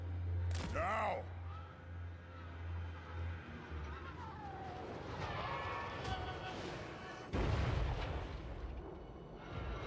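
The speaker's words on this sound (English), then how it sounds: "Oh, this tower's firing over the wall." Towers firing over a wall in a fantasy strategy video game, heavy booming artillery-like shots and explosions, several loud impacts spread across a rumbling battle soundscape.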